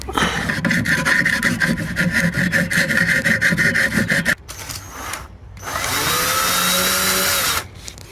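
A power drill grinds steadily through wood for several seconds, stops, then a second shorter burst of high whining drilling follows.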